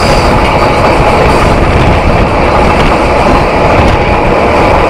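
The Banalata Express runs at over 100 km/h on its Dhaka–Rajshahi route, a loud, dense, continuous rumble of wheels and rushing air heard close from aboard.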